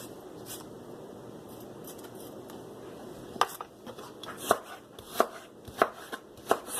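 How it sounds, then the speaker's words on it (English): A knife chops cilantro and purple onion on a board in a series of sharp, evenly spaced cuts that start after a quiet stretch, close and fairly loud. "so I just cut up my cilantro and my purple onion"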